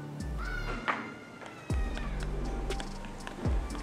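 A sick cat with calicivirus meows while being hand-fed a watered-down food mash. Soft, short cries rise over close handling noises and low background rumble.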